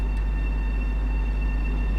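A train rumbles steadily past in Train Sim World 2 on the Harlem Line, a loud, continuous low roar with a faint rail hum and no talking.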